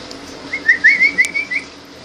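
A small pet bird chirps close by, a quick run of bright whistled notes lasting about a second, with no other sounds around it.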